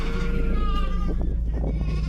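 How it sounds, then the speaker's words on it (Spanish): Sheep bleating in a corral at night, loud close wavering cries overlapping one another in quick succession over a low rumbling background. "por la noche se vio despertado por el balido de sus ovejas."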